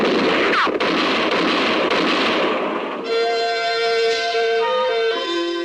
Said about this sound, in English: the moonlit clearing thundered to the sound of gunfire